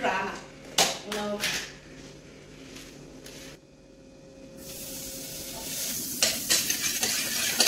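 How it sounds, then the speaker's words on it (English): Bacon cubes sizzle and spit in a hot pan, a close hissing crackle that swells after a quieter moment, with some clatter of utensils and a voice talking over the start. "And then we're gonna start by frying our bacon."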